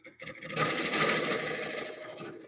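A skew chisel cuts into a wooden bowl spinning on a woodturning lathe, giving a steady close-up whirring, scraping hiss that starts after a brief pause and holds for about two seconds.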